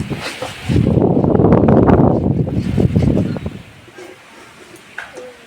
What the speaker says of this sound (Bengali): যা হাওয়া দিচ্ছে হচ্ছে গাছে ডালপালা সব ভেঙে পড়ে যাবে